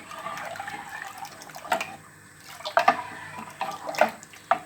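Water is poured into a pot of boiled masoor lentils with turmeric, with quiet, close splashing that comes in uneven bursts and pauses.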